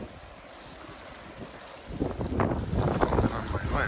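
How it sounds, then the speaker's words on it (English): Strong wind gusts across the exposed mountain top at Pulpit Rock in Norway, buffeting the microphone with rumbling roar that swells louder in the second half. "The wind has certainly picked up here"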